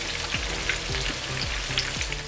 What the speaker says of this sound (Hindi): कबाब हमने डाल दिए हैं फ्राई करने के लिए